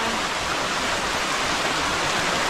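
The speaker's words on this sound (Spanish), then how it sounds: "Ahí viene el agua." Water flows steadily on a countryside farm, a constant broadband rush like a small stream or spilling channel, even and fairly close throughout with no distinct breaks.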